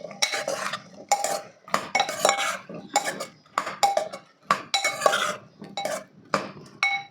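A spoon stirs a potato and chana dal curry in a metal pan, making steady rhythmic clinks and scrapes, close and fairly loud, with no talking.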